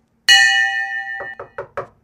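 A bell sound effect opening a morning radio segment rings out with one bright struck tone whose shimmering partials hang for about a second, followed by four short, dull knocking hits in quick succession.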